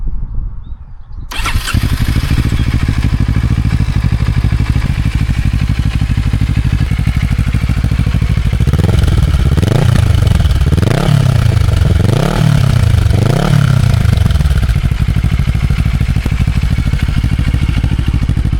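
A Kawasaki motorcycle engine cranks and catches after a brief quiet start, idles loudly, then revs in several rising surges before settling back to a steady rumble.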